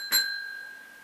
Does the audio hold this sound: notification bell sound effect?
yes